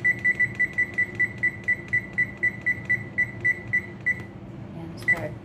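An oven timer being set to 20 minutes while baking cinnamon rolls at 350 degrees gives a quick run of evenly spaced, sharp electronic beeps, then one final beep after a short pause.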